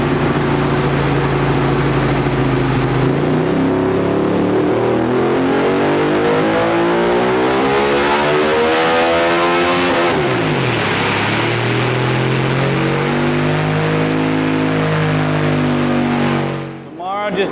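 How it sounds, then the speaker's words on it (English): A Ducati 1098 motorcycle with a Termignoni exhaust revs hard through a full dyno power pull, engine pitch climbing steadily through the gears before cutting off abruptly, loud and close throughout. "Just did his power pull on the 1098."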